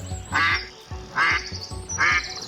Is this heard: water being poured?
no